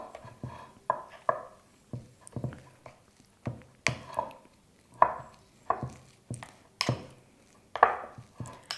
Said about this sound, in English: you're just going to use your spoon or a fork to start to mash everything